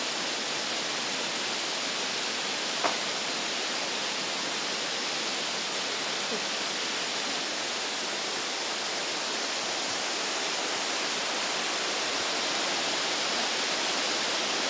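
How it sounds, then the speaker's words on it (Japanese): A waterfall in a forest on Amami roars in a steady, continuous broadband rush, unbroken and fairly loud from start to finish. "滝を見に訪れました。"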